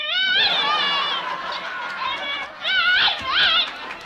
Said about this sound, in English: A mutt barking, how cute.